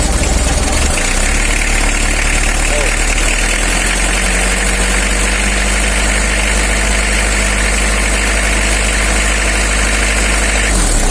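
A Mitsubishi L300 van engine, running rough with timing jumped, idles loudly and steadily up close, a low rumbling drone with constant vibration and no voices.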